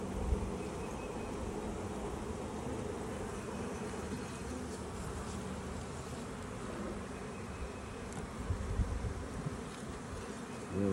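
A spring beehive opened for inspection, honeybees buzzing densely and continuously up close, a steady swarm drone filling the whole stretch with no voices.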